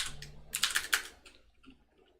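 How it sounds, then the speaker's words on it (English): A computer keyboard is typed on in a short, quiet burst of clicky keystrokes, a few quick taps close to the microphone that trail off within two seconds. "how many of you are annoyed by this keyboard sound compared to the other one?"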